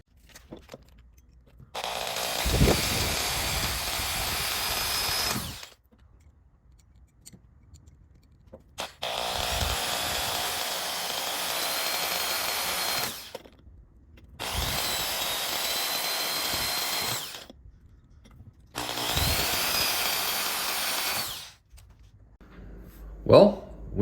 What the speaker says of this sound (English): So let's go ahead and get these holes drilled.